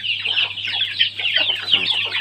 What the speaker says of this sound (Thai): ลอยไก่ออกหากิน อยากเลี้ยงลูกไก่ชนนะ